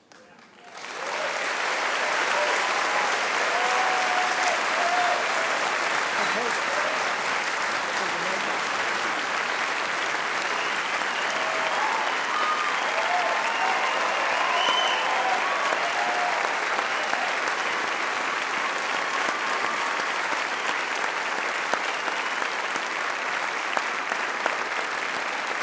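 At an awards ceremony, a large audience bursts into sustained applause with cheering, a dense, even wall of clapping that rises within the first second or two and holds steady for over twenty seconds.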